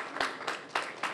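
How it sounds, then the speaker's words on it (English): An audience at a university HBCU Week panel gives a round of applause, a brief burst of scattered hand claps with a few distinct sharp claps standing out. "Please give him a round of applause."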